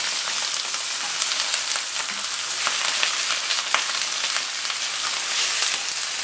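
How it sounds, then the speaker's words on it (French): Peppers, shiitake mushrooms and Chinese cabbage sizzle and fry steadily in a hot pan with sake, producing a dense, continuous crackle with occasional sharper pops. "Donc les poivrons, ça grille."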